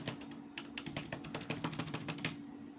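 Rapid clatter of keys on a computer keyboard, a steady run of close, crisp clicks with a few brief pauses, heard alone over a low constant hum.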